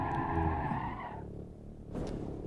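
Tires squeal as a car skids under braking in the racing video game Ascending Descent Road, a loud sustained screech that fades out over a second before engine noise swells again, with no talking.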